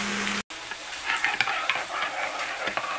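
Chicken breasts, whole and not pounded flat, sizzle steadily in a frying pan, a continuous close crackle with small pops and brief stirring scrapes, after a short cut to silence near the start.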